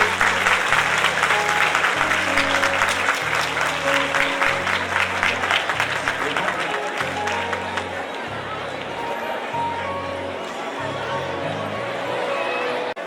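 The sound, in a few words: audience standing and applauding for a guest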